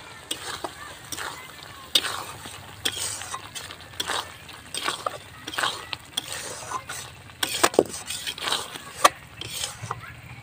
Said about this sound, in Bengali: এবার এর মধ্যে দিয়ে দিচ্ছি ভেজে রাখা আলু আর পনিরগুলো।